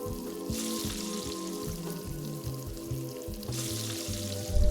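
A block of meat searing on a cooking surface in Voices of the Void gives a steady, loud sizzle, with rhythmic low game tones or music underneath throughout.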